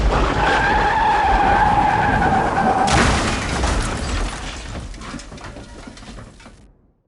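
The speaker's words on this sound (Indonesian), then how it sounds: "Tiba-tiba kulihat sebuah truk besar mengarah ke depan mobil Mas Lukman dengan kecepatan yang cukup tinggi" A car skidding as a big truck approaches at speed on the road ahead, a loud close tire screech with a strained tone that gives way to rough noise and fades out.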